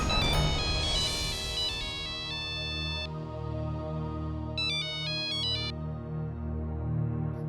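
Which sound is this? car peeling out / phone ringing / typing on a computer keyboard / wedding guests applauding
phone ringing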